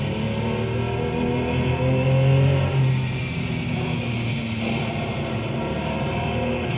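A race car in the eBernina GT sim racing game holds a steady engine drone through a long turn, then the revs swell under throttle and ease back, loud and continuous.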